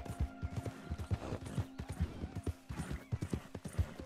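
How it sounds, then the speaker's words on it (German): A horse is ridden at a steady pace in Red Dead Redemption 2, its hooves clip-clopping in a clear, even rhythm that sounds loud and close, with no talk. "Hier reiten wir ja schon durch das Tor."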